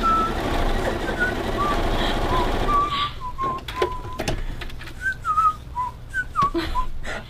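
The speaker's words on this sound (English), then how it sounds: "Do you want to show them how you whistle?" A person whistles a series of short rising and falling notes, broken into brief phrases, with a steady mechanical hum underneath in the first half.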